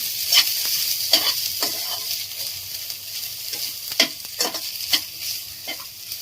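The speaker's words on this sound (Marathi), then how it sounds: "खोबरं सुद्धा ना स्लाइटली ब्राउन होईपर्यंत भाजून घ्यायचंय" Grated coconut roasts in a hot pan, a soft continuous sizzle broken by several sharp scraping strokes of a spatula stirring it, close and clear with no talking.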